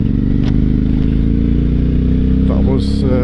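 Aprilia Shiver 750 motorcycle with its exhaust baffles removed, its engine a steady loud rumble and drone throughout as it rides around town, with a brief rev and clatter near the end.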